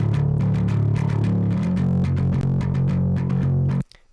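Emissary amp plugin on a metalcore grit channel gives a dense, saturated distorted guitar tone with chugging, palm-muted low riffs and choppy rhythmic stabs. Loud and continuous, it cuts off abruptly near the end.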